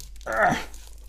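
Plastic wrapping being pulled off a pack of Lord of the Rings LCG core set counters, one short crinkling tear lasting about a third of a second, close and alone in a quiet room.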